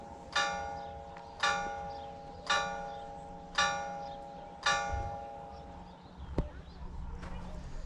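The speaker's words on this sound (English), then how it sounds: "the church bells." Church bells in the small Karoo village of Loxton, South Africa, ring in five evenly spaced, resonant strikes, each fading slowly. A faint voice and some street noise can be heard after the ringing.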